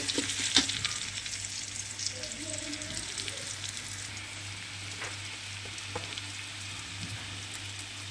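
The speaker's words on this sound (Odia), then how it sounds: "ନାଲି ହେବା ପର୍ଯ୍ୟନ୍ତ ଭାଜିବା।" Onions fry in oil in a pan for an Odia dish, a steady soft sizzle and crackle with occasional stirring clicks, close and continuous, with no talking.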